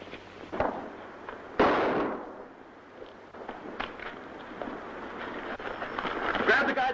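Gunshots ring out in a 1943 western film, a sharp report near the start and a louder, longer blast around the middle, followed by lingering echo and background commotion.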